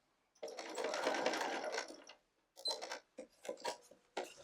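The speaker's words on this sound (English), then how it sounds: "Pivot, line it up so that I'm going to sew straight to the corner." Sewing machine stitching quilt binding toward a corner, a sustained loud motor whir of rapid stitches for about two seconds, then several short bursts of stitching after a pause.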